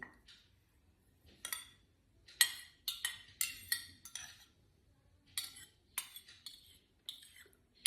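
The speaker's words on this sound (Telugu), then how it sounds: "ఇది కూడా ఈ సొల్యూషన్లో డిజాల్వ్ చేసి మిక్స్ చేద్దాము" A biodegradable cover is stirred in a solution with metal utensils, producing a series of sharp, irregular clinks and scrapes against a container, close and clear over near silence, with no talking.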